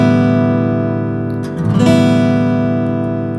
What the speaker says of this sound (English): and then strum all the strings open.